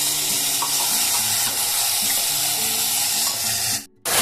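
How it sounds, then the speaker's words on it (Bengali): Spices stir-frying over a medium flame for soybean ghugni, a steady loud sizzle with rhythmic scraping of a spoon in the pan, briefly cut off near the end. "ঠিক আরও 2 মিনিট আমি একদম মিডিয়াম ফ্লেমে কষিয়ে নেব।"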